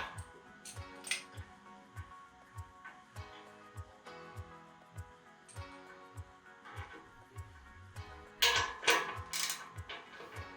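A bolt being tightened on an Adidas home gym weight stack, with a regular series of soft ratcheting clicks at close range and a few louder metallic clanks near the end.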